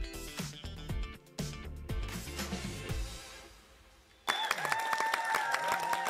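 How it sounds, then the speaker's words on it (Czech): A television studio audience breaks into loud applause partway through, after a stretch of music; the clapping continues to the end with some tones ringing over it. "Takovej krásný potlesk."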